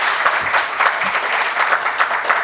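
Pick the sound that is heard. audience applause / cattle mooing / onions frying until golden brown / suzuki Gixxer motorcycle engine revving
audience applause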